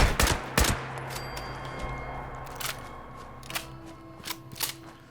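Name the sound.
gunfire battling scorched in the video game Fallout 76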